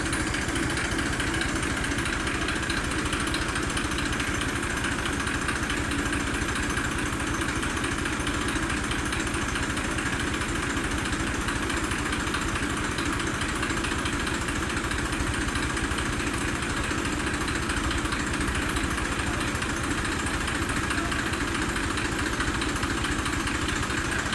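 A tractor engine idles steadily for the whole stretch, a constant chugging drone at moderate distance, with no voices and no change in pace.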